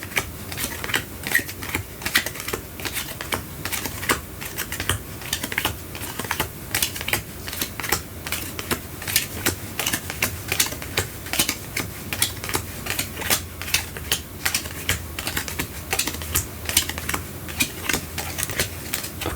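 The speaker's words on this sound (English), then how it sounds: "Just start flipping cards." Playing cards flipped over one after another in a steady stream of crisp snapping and ticking sounds, close and fairly quiet, with no voice.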